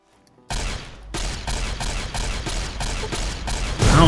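Rapid gunfire fills a firefight against blind Deathclaws in Fallout New Vegas, with a burst of shots after a brief silent start, then evenly spaced loud repeating shots throughout and heavier noise at the end.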